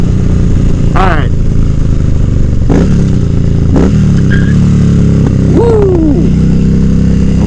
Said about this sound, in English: those Cobra pipes sound really good on this